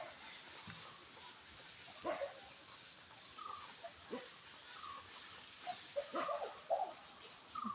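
A dog on a farm with coffee and nutmeg plantings barks and yips in short scattered bursts at moderate distance, faint over outdoor ambience.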